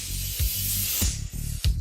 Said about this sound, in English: Spraying Parrot Clear Coat.